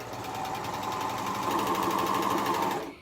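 A Viking Amber Air serger stitches in one steady, fast mechanical whir for about three seconds, close and even, stopping abruptly at the end.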